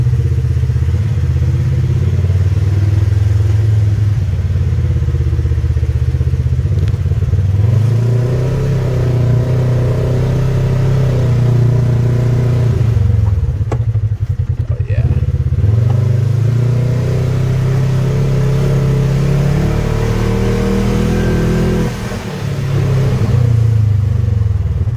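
A 2021 Polaris RZR XP4 1000 side-by-side drives off after a brake bleed, its engine droning loud and close with rising and falling revs and some rattle over the whole run.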